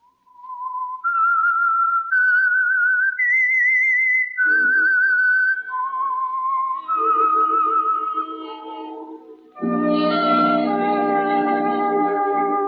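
The whistled signature tune of the old-time radio program The Whistler: a lone whistler carries a wavering, melodic tune up and down in clear sustained notes, then a low orchestral chord swells in underneath near the end.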